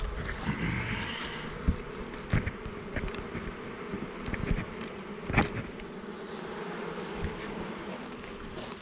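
Honeybees buzz steadily around an open hive, a dense, continuous hum close by with occasional louder passes of individual bees near the ear; no one speaks.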